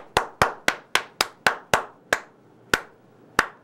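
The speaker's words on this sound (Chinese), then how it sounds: "掌声鼓励鼓励。" About eleven sharp hand claps ring out at a live talk-show event, starting at a steady clip and then slowing and thinning toward the end, close and distinct with no talk over them.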